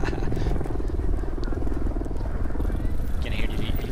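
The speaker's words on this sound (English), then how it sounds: "You can hear the helicopters filming the race from the sky." Camera helicopters hover over a 2018 cyclocross race in California, filming it from the sky, producing a steady, continuous rotor drone with a rhythmic low chop that stays loud throughout, with crowd and race noise mixed in.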